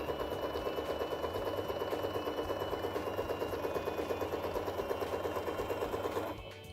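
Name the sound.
sewing machine stitching a seam on fabric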